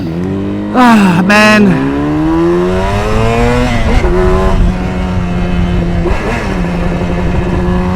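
A Yamaha RD400 two-stroke street motorcycle ridden through traffic revs hard and close, its buzzing engine note climbing and dropping through several gear changes, while a rider briefly exclaims.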